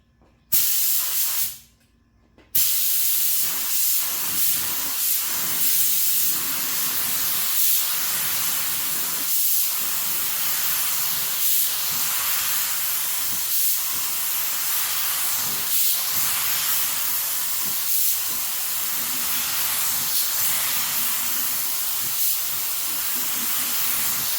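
Spray gun laying down clear coat over blue paint, a steady loud hiss broken by short regular pauses between passes, continuing alone for over twenty seconds.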